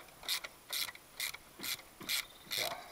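A hand ratchet clicks in six short, evenly spaced bursts while bolts are undone on a Mitsubishi 2.0 GDI engine during a teardown; the clicking is close but quiet.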